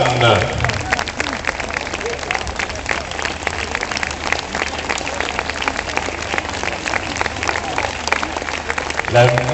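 A church audience claps for the monks in a village play, broad sustained applause throughout with a brief voice near the start and end.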